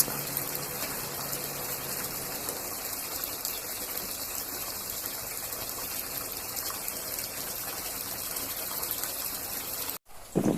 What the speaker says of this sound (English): So now we are filling it with water and the koi is really enjoying it